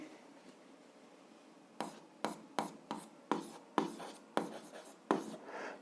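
A pen scratches out a math solution on paper in a quiet room, giving about a dozen short rhythmic scribbling strokes separated by brief pauses.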